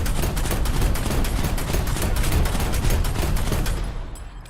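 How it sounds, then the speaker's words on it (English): Rapid bursts of 25mm autocannon fire from a Bradley in the War Thunder video game, loud and continuous dense rattling for several seconds before tapering off at the end. "I'm totally shooting underneath his tracks, but the tracks are still just... The tracks are just eating all these rounds."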